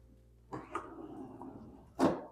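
A drawer in a built-in vanity joined to a wardrobe slides open with a soft rolling scrape, then ends in a firmer knock, all close and fairly quiet.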